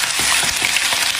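Chicken frying in a pan with onion, scallion and ginger, a loud steady crackling sizzle with soft stirring scrapes close up.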